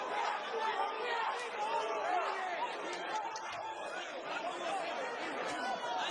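Crowd at a Las Vegas boxing arena during the Manny Pacquiao vs Yordenis Ugas fight, a steady dense roar of chatter and cheering that fills the whole stretch, with commentary running over it.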